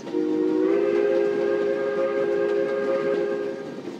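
A steam train whistle in a train simulator game, a South Australian Railways 520 class locomotive, blows one long, steady, chord-like toot that holds for about three seconds before fading slightly at the end.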